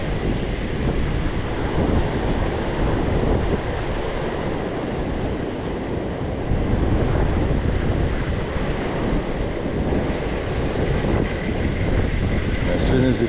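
Wind and waves washing against coastal rocks at Kei Mouth, a steady loud roar of surf and gusting wind buffeting the microphone, surging slightly midway, with no clear voices.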